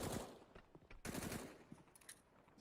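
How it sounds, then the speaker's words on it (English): Scout rifle shots in Counter-Strike on the Train map during a professional match, faint cracks and bursts of gunfire clustered in two quick volleys with softer game noise trailing after. "Good shots so far from the scout, just whittling them down so Electronic can finish them off"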